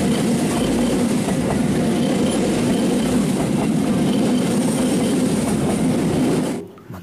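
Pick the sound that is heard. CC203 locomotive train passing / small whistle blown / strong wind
CC203 locomotive train passing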